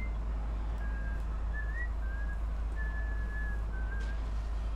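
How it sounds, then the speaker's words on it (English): A person whistles the Aladdin song, a thin wavering melody of sustained notes held over a loud steady rumble of underwater ambience in the video game Subnautica Below Zero. "I don't know why I suddenly started whistling the Aladdin song."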